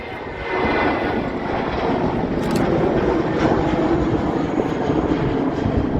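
Lufthansa airliner at Manchester Airport, a loud sustained jet engine roar swelling in after a moment and holding steady and close throughout, with no voices.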